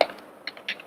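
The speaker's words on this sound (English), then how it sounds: "let's type this guy right here" Keystrokes on a computer keyboard while entering a value in C# code, a few separate light clicks spaced unevenly across one second, with a short cluster near the end.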